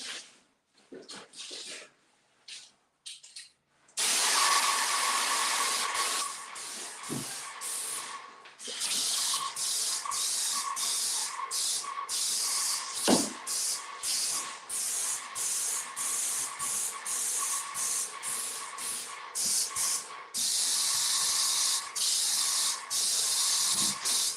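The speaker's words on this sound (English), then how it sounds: "spray on certain parts that I see are missing." Spray painting, with short hissing test bursts followed by long sustained hisses of spray broken by brief pauses, close and loud, alone without talk.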